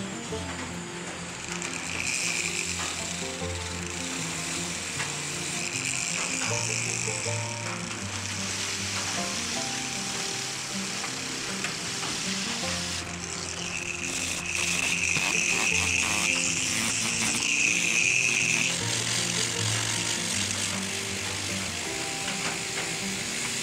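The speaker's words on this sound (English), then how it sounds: "I'm just taking this, my sander here, and blending it in with the body." A small power sander blends a carved wooden brown trout's fin into the body, giving a steady high whirring buzz that runs close and continuous with slight shifts in pitch, and no one speaks.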